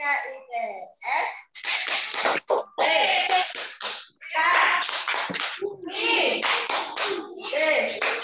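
Young kindergarten children perform a rhythmic class clap chant in a classroom, bursts of unison clapping alternating with chanted voices in a quick, steady pattern.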